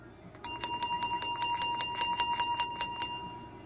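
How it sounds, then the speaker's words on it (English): A bell rings in a steady series of about fourteen evenly spaced metallic strikes, each bright and ringing briefly before the next. The strikes are close and loud, with no voices. "Jingle the bells."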